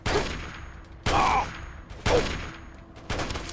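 Four sharp sniper rifle shots in Fallout 3 combat, evenly spaced about a second apart, each a loud crack with a decaying tail, close to the listener with no talk.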